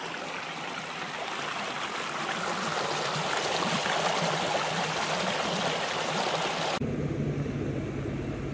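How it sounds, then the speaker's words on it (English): Water flowing in a small creek in the Victorian High Country, a steady close rushing and babbling that fills the scene without voices, cutting to a quieter wash near the end. "little creek."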